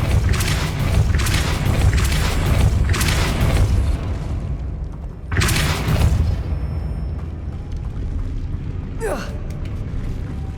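Magic spell blasts cast in the video game Hogwarts Legacy, a series of loud booming bursts in quick succession, then a sharp whooshing crack later on, all over a steady game soundtrack.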